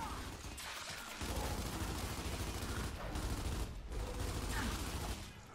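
Gunfire in the video game Gears 5, a dense steady barrage of shots and blasts running the whole time at fairly loud level, with a few brief dips between bursts.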